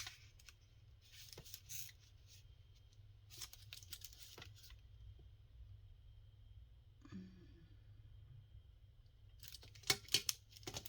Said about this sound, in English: And so I need to cut it down.